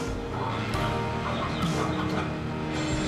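A hen with her chicks gives soft, scattered clucks, quiet and close, over a low steady background.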